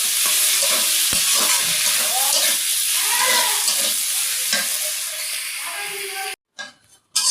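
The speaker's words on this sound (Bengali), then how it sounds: "এই যে ঝরঝরি সিমাই রান্নার জন্য কিন্তু আমি সিমাইটা আগে ভেজে নেব" Vermicelli frying in ghee in a pan, with steady stirring and sizzling close by throughout, a soft scrape now and then, ending in a short quiet break and then brief rustling.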